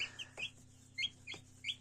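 Incubator-hatched chicks give a few high, thin peeps in quick, uneven succession over a faint steady hum, close and fairly soft.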